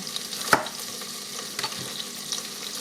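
Bacon frying in an electric pressure cooker on its sauté setting, a soft steady sizzle with one sharp clack early on and a few faint scrapes, close by and with no one speaking.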